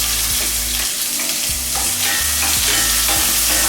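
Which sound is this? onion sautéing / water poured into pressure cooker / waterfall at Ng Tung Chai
onion sautéing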